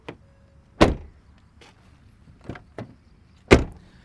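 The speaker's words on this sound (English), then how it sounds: "there is still a very solid feel to the closing of the doors" Doors of a Ford Figo 1.2 petrol automatic hatchback shutting, several separate thuds spread across a quiet interval, two especially loud and solid slams with softer clunks between them, close by and with no talking.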